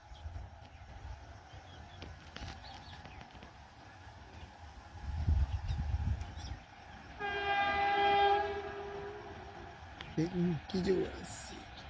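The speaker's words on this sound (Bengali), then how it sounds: "কত জোরে আসছে দেখুন। কালকা হাওড়া নেতাজি কালকা মেল।" The Kalka Howrah Netaji Express, also called the Kalka Mail, rushes past at speed with a steady rumble and clatter. A loud horn blast and some voices rise over the noise.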